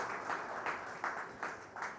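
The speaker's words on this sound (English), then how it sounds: "And you know why the men are clapping?" Audience applause at a live televised town hall event, a broad rustling wash of clapping with periodic surges, moderately distant and fairly quiet.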